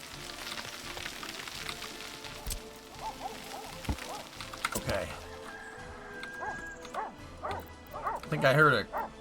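Several sharp dog barks and yips in the game Workers & Resources ring out over a busy background of talking, with a louder cluster of barking near the end.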